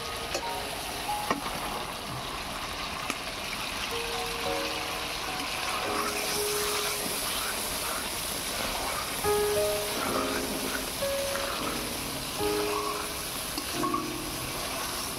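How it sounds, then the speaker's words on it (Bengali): Pointed gourd (potol) frying in oily spice masala for potol korma, a steady sizzling hiss running throughout with faint scattered clinks, fairly close and continuous, no talking. "পটলটাকে একটু কষিয়ে নেব"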